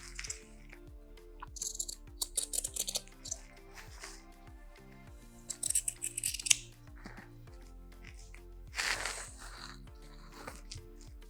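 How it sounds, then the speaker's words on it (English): Scissors trimming the fabric seam allowance of an A-line dress, a series of close, crisp snips in an uneven rhythm over soft background music, with no talking. "Trim the seam allowance across this edge diagonally."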